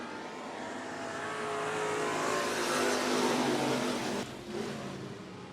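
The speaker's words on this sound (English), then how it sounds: "Cody Wade coming out of turn number 2 down the back straightaway." Race cars at 105 Speedway roaring past in a loud, swelling pass, engine noise building to a peak and then cutting back sharply as the cars fade down the straightaway.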